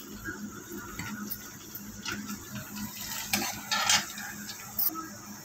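A spoon stirring chili powder, garam masala and a little coriander powder into a paste in a bowl, with soft scraping and light clinks of metal against the dish, close and fairly quiet, with a few sharper taps.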